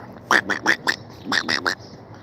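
A duck quacks in two quick bursts of four loud, close calls, separated by a short pause, with no talk over them, near a fishing spot.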